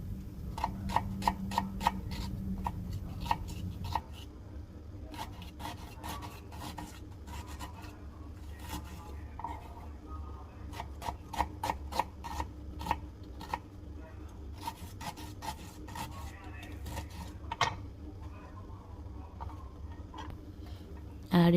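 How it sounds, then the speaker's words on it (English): Knife chopping onion into small pieces on a cutting board, a steady stream of quick, light, close taps with brief pauses, fairly quiet, over a low background hum and no talking. "Cut into small pieces."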